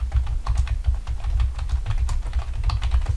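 Steady, rapid keystrokes on a computer keyboard, a continuous close-up clatter of typing with no voices.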